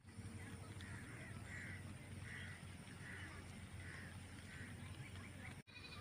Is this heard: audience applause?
no